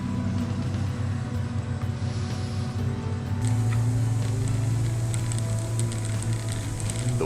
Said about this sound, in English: Doing this with wet brakes makes for a very noisy video